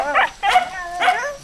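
Three loud, close dog barks in quick succession, each a sharp bark with a short pause between.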